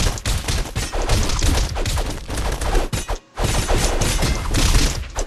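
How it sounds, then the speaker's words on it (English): Bombs thrown in the Castle Crashers video game, a dense barrage of explosive blasts and crashes in rapid succession with a brief silent gap midway. "this motherfucker wants to throw bombs at me"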